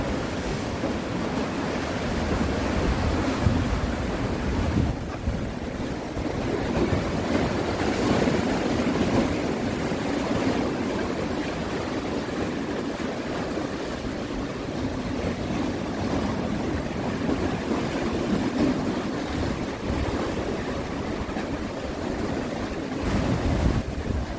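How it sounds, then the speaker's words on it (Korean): Strong sea waves roll in at Ingu harbour on the Korean coast, a steady broad surf roar with gusting wind buffeting the microphone throughout, no voices, sustained and fairly loud. "파도가 점점 네, 센 파도가 오고 있네요"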